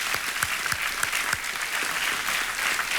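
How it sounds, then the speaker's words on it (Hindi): Studio audience at a Hindi quiz show clapping for the contestants, a steady burst of applause with crisp individual claps, close and lively throughout with no talking over it. "एक बार हमारे कंटेस्टेंट्स के लिए ताली बज जाए।"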